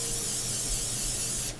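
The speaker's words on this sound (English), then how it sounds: "generous spray of Miss Pam." Pam cooking spray hisses into a pan in one steady, close burst lasting over a second before cutting off.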